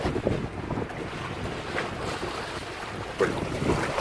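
Strong wind buffets the microphone around a homemade houseboat in a storm, with water sloshing and a few brief knocks; steady and loud, no voices.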